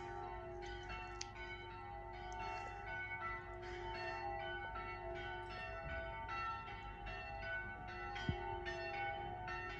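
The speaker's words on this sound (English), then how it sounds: "Both bells." Two church bells ring together in a small Adriatic coastal town, steady overlapping strokes with a bright ringing tone carrying at moderate distance for the whole stretch, with a faint background hum and no talk.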